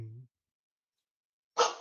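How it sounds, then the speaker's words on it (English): A dog barks once, sharp and fairly close, after a short stretch of silence, breaking into a spoken podcast-style discussion. "Dogs will never not bark."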